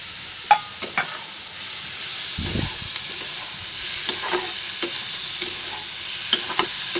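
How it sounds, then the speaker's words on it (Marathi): Diced potatoes and onion fry together in a pan, a steady close sizzle with occasional sharp clicks and a brief stirring scrape, no voices. "हा कांदा भाजतोय ना, त्याच्यातच मी आता ही बटाटी टाकते."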